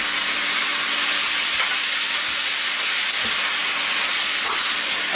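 Hot oil sizzling in a pot while curry chicken cooks, a loud, dense, continuous hiss close to the pot with no pauses.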